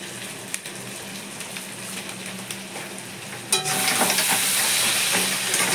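A fish-head and mixed vegetable dish with Malabar spinach frying in a pan as cumin powder is stirred in: a moderate sizzle with occasional stirring, then a sudden louder, hissier burst of frying partway through that stays strong to the end.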